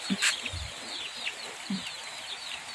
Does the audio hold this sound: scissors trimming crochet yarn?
no